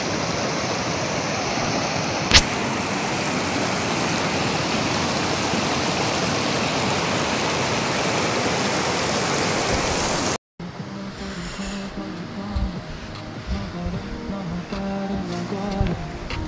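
A mountain stream rushes loudly and steadily on the trek to Vishansar Lake, a dense close roar that cuts off abruptly to quieter outdoor ambience.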